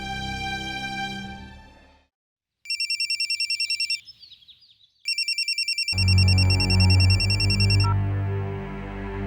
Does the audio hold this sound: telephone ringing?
yes